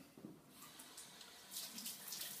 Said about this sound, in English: I'd be using my filtered water here, of course, rather than the French mains water